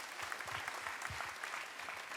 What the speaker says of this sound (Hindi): ताली बजा के अभिनंदन कीजिए।